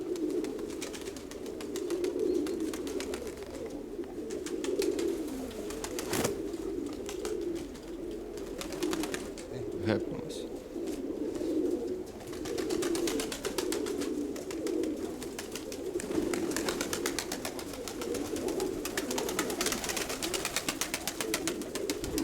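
Pigeons, among them an old bird, coo in soft repeated low rolling calls close by, with occasional brief rustles and wing flutters over a steady background.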